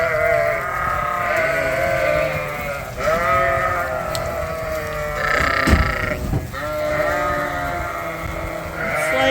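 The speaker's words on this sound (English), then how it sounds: "like a river of sheep flowing out of the barn." A flock of sheep streaming out of a barn on a farm, many overlapping bleats and baas near and far in a continuous chorus.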